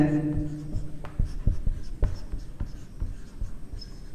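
A teacher writes out a maths solution for a linear inequation lesson, with a quick series of close, distinct scratching and tapping strokes at an irregular rhythm over a low room hum.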